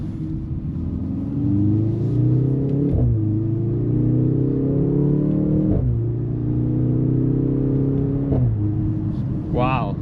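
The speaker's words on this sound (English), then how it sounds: "Wow, listen to the pops, guys." A 2026 Mercedes-AMG GLC 43 Coupe engine revs up and drops back repeatedly, the exhaust snapping with pops and crackles, loud and close throughout.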